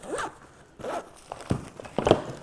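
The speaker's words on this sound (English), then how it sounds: "The zipper is not wanting to cooperate sometimes with the piece of fabric that's kind of protecting it." A zipper on a Haley Strategic gear pouch is tugged in several short bursts, catching on a protective fabric flap, with close, raspy pulls separated by brief pauses.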